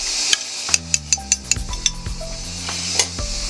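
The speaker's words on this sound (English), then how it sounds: "We're just going to add that in and stir at the same time." A spoon clinks and scrapes against a pot as a cornstarch and water slurry is stirred into a bubbling, sizzling sweet and sour sauce, with several sharp taps over a steady hiss.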